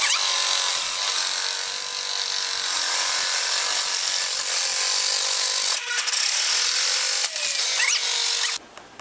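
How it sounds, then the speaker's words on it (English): A food processor on its smaller grating setting shreds a bar of soap with a loud, steady rough grinding whir that runs for about nine seconds, with brief catches in its pace, before cutting off. "since I have a food processor, I am just going to use it"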